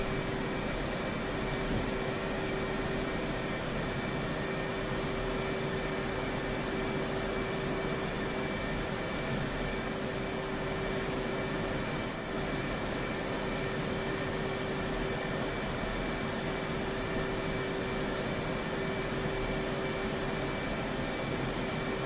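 A jet aircraft engine in DCS World spools up with a steady, high-pitched whine over a constant broadband roar, loud and unbroken, with no talking.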